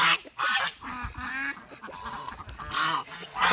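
Farm geese parading together give loud, repeated honks and quacking calls in overlapping bursts, close by with brief gaps between the calls.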